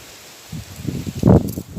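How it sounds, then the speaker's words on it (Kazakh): Strong wind gusts buffet the microphone outdoors on a mountainside, coming as low, rumbling rustles in uneven bursts that swell and fade over a quiet background. "Мен даусым естілмеуі мүмкін. Үйкенің аяқта қатты жел болып жатыр."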